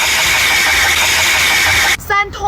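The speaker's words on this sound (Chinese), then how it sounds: "机油泵异响" A car engine with an abnormal oil pump noise runs loud and steady close by for about two seconds, then cuts off as a voice begins speaking.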